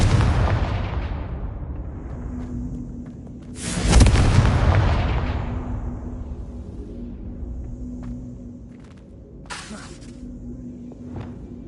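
Confringo fire spell blasts in the wizarding game Hogwarts Legacy, two booming explosions with long rumbling decays, the louder one near the middle, set against low game ambience.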